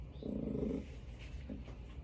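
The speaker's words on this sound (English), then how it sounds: "There's a cat trying to be involved in the video too" A cat purrs close by in a soft, low rumble that swells for about half a second, fades, then returns briefly in a second, weaker burst, with no talking.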